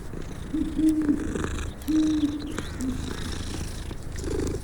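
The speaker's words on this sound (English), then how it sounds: "It's a cat again, no? Different cat." A cat in the Hogwarts Legacy video game purrs close by, with a few drawn-out meow-like tones rising over the rumble and a soft sound at the end.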